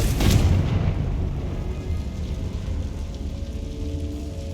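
A Confringo spell explosion in the Hogwarts Legacy video game bursts open with a deep boom, then a long rumbling roar that slowly fades and fills the whole stretch, with no talking over it.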